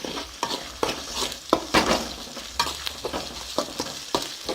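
Ginger garlic paste and chopped onion fry in oil for a spicy chicken gravy, with quick stirring scrapes and clatters about twice a second over a steady, close sizzle.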